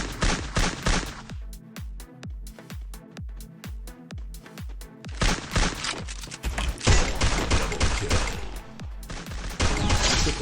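Rapid bursts of automatic gunfire in the Free Fire battle game, loud and close, with rhythmic repeated shots early on giving way to dense, overlapping fusillades.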